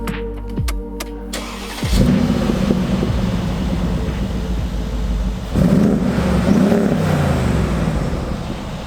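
A 2016 Mercedes-AMG G63 with a 5.5-liter twin-turbo V8 cranks over and catches, then settles into a loud, rumbling idle before a throaty rev swells midway through.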